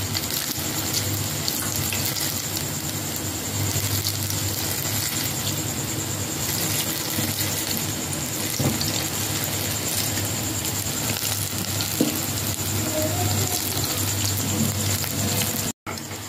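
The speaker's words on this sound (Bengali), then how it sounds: "বাকি বড়াগুলো ভাজা হয়ে গেছে আর বাকি বড়াগুলো কিন্তু এইভাবেই ফুলে উঠেছে" Palm fruit fritters of flour and semolina deep-frying in oil, a continuous dense sizzle and bubbling at a steady level, close by, ending with a brief break near the end.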